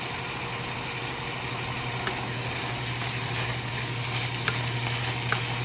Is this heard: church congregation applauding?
no